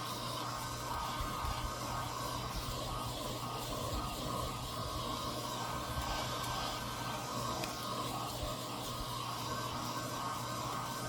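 An old travel hairdryer blows steadily and continuously to dry fluorescent green paint, a constant close-up whoosh with a low hum that holds unchanged from start to finish with no speech.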